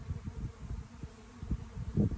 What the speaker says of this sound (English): And the bees are just trucking. They're super occupied right now.